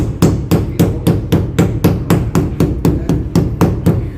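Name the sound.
hammer pounding papyrus slices to remove water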